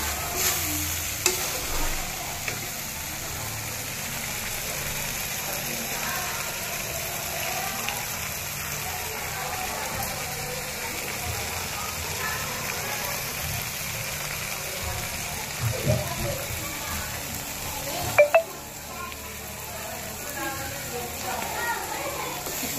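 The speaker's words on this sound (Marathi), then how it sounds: "मसाल्याने मस्त असं तेल सोडलेलं आहे" Black masala spice paste fries in oil with a soft, steady sizzle and occasional stirring scrapes, fairly quiet, while a voice speaks over it.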